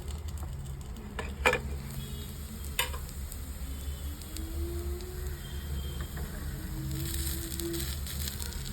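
Sweet corn frying in a covered pan, a low steady sizzle with a couple of sharp clatters as the pieces are turned, close and otherwise quiet.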